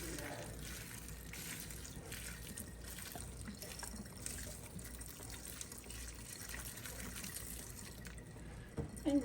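Liquid drains from cooked cabbage and sauerkraut for hunter's stew, a faint continuous trickle and splash with small drips, ending in a couple of louder clatters.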